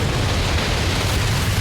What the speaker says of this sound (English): There's a sickening, cracking rumble, explosions, boom.